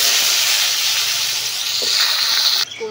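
A potato frying in oil on a clay mud oven stove gives a loud, steady, close hiss of sizzling that cuts off abruptly near the end, with no voices.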